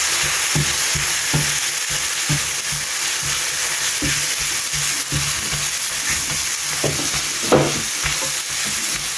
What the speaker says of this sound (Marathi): थोडेशें न्ही उदीक घालता आनी बरो फ्राय करून घेता मसालो.